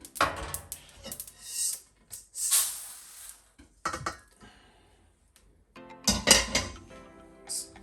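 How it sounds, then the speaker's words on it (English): Metal baking tray handled in a home kitchen while tang yuan is being made, with several sharp clanks and scrapes in separate bursts and quiet gaps between them. "So here I'm gonna use my baking tray."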